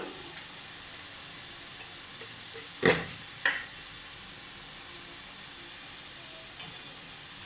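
Spice masala of chilli, cumin and coriander powder with salt frying in a pan for banana flower curry hisses with a continuous bright sizzle, broken by a few sharp knocks and scrapes of a spatula against the pan.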